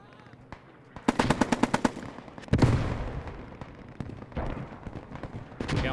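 Machine gun fire from an MG placement in a World War II tank game, a rapid run of loud sharp shots, then a heavy blast and scattered further gunfire and impacts.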